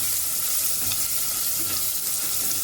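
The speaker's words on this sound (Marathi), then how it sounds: "त्यामध्ये कांदा पण आपण परतून घेऊया." Onion sautéing in oil with mustard seeds, cumin, asafoetida and garlic makes a steady, soft sizzle with faint stirring scrapes and no speech.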